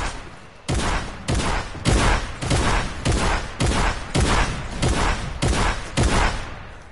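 Rapid gunfire in a shooter video game, loud and close, firing in about ten sustained bursts with brief gaps between them and no voices over it.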